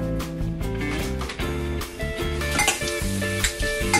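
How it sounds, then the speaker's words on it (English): Food is stirred and sizzles in a hot frying pan for shredded pork tacos, with utensil scrapes and clinks over a steady fry, close and moderately loud. "Give it a little stir."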